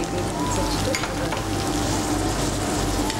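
Egg stuffing for a stuffed pancake sizzles steadily in a pan, a continuous close frying hiss with faint scraping of stirring throughout, no talk.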